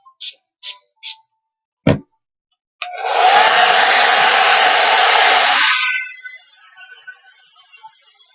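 A hair dryer on its cool setting blasts steadily and loudly for about three seconds to dry makeup, preceded by a few brief clicks and taps and trailing off into faint rustling.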